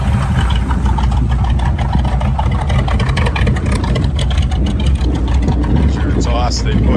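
A truck engine runs steadily with a low, rumbling drone and some exhaust noise. Someone talks over it the whole time.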